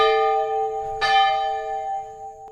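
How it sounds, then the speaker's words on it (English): A large metal bell, struck with a logger's mark, rings with a long sustained tone, then is struck again once, loud and close, its ringing decaying slowly. "the gong of the mark against the metal bell made my ears ring too"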